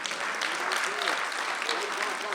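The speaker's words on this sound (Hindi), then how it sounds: "अगली जो बात कह रहा हूं उस पर तालियां देना" An audience at an Independence Day poetry event claps steadily, a dense, even wash of applause, with a voice speaking over it.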